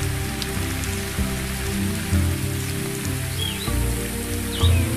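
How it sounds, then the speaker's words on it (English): Rain falling steadily on the ground in the African bush, a dense, continuous patter with a low rumbling bed and faint bird calls above it. "The rain very quickly brings a close to the seemingly incessant days of heat, dust, and death."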